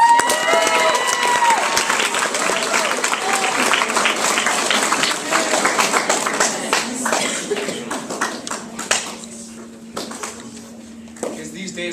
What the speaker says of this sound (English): Let's have a round of applause for our next competitor,